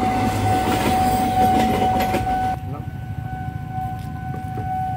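Red CC300 locomotive and train roll loudly past a railway crossing, with steady rumbling and clacking wheels, a sustained horn-like tone, and noise easing after the passing.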